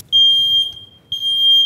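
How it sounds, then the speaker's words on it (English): Smoke alarm going off in a home kitchen during cooking: two loud, piercing, sustained electronic beeps, each lasting nearly a second with a short gap between, heard with no talking. "You know it's lit when the alarm is going off"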